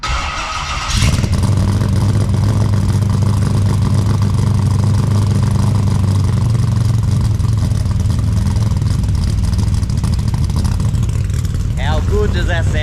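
A Holden VN Executive's 6-litre engine idles loudly and steadily with a deep low rumble after a brief start, continuing for several seconds, with a faint chirping sound near the end.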